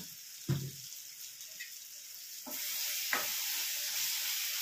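Cumin seeds and spices dropped into a hot pan for a North Karnataka-style eggplant curry, giving a brief clatter followed by a steady, close sizzle that fills the rest of the moment, with no talking.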